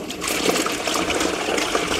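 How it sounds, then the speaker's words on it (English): A toilet flushes while a toilet brush is rinsed in the running water, a close, continuous rushing gush of water lasting a couple of seconds. "I'll flush and rinse the brush with the flushing water"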